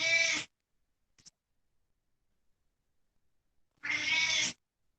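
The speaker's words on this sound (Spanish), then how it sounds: "Un gato quiere hablar." A cat meows twice, loud and close, one drawn-out call at the start and another near the end, with near silence between them.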